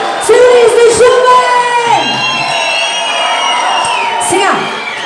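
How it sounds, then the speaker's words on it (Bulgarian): Crowd at Dance Club Colosseum in Shumen shouting and whooping loudly and continuously, voices rising and falling in a dense, close cheer. "Аплодисменти за всички, които се разпяха и разпиха тази вечер."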